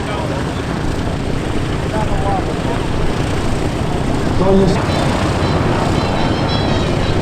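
A Twin Beech airplane flying aerobatics overhead at an airshow gathering, its engine drone steady and continuous, partly covered by an announcer talking over a loudspeaker.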